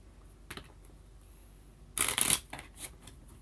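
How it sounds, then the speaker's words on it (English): Cards are shuffled nearby, a few light taps and then a short, bright riffle burst lasting about half a second, followed by softer clicks. "I feel like I really need to shuffle this really well."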